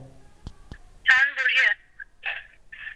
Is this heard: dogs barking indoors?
no